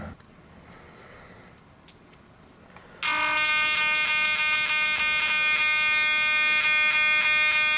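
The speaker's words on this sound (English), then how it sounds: "I want to plug in my servo tester" RC servo for a large five-metre RC GPS sport glider wing, driven by a servo tester, starts abruptly partway through and gives a loud, steady high-pitched electric buzz with tonal whine that runs on to the end.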